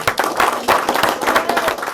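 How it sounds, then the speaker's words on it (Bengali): A crowd at a political meeting claps loudly and close by, a dense run of rapid hand claps that pulses in waves without a break for about two seconds. "আমরা সবাই একজন হাততালি দিয়ে চলেন"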